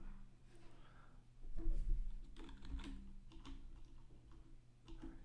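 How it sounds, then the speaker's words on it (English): Someone typing a URL on a computer keyboard, with quick, irregular clusters of soft key clicks, close and quiet and heard alone without talk. "Maybe I'll type it out one more time."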